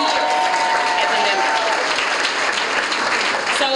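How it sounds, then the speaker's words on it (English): A room full of people gives a big round of applause to honoree Serena at a young leaders salute event. The clapping is dense, loud and steady throughout, fading slightly near the end. "So Serena, big round of applause."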